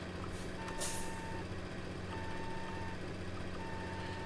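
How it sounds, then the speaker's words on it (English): A heavy truck backing up a big trailer in the 18 Wheels of Steel: Across America driving game, with a steady engine drone, repeated reversing beeps and a hiss of air brakes, loud and continuous with no talk. "Oh boy, I cannot back up big trailers."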